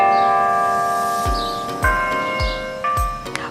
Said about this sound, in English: the church bells were going off.